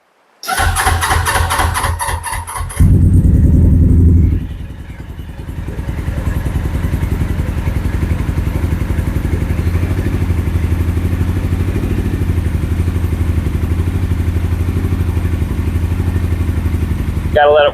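A carbureted 2007 Suzuki GS500F motorcycle engine cranks with a clattering starter, then catches and settles into a steady, loud, close idle that runs continuously to the end.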